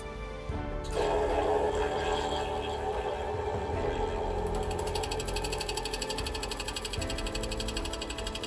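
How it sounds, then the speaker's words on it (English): A slitting saw on a separate spindle cuts a screwdriver slot into a small high-carbon steel watch screw, giving a continuous close whirring drone with a fine high buzzing pulse that builds partway through. "Here, however, I use a slitting saw mounted on a separate spindle instead."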